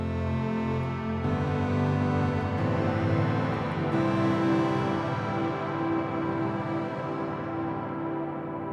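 Sonicware Texture Lab granular effect with density turned all the way up, producing a dense, sustained harmonic wash that shifts pitch at a few points and slowly dulls toward the end, steady and alone.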